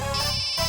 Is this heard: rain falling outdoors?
no